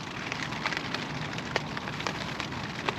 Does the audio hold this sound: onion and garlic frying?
no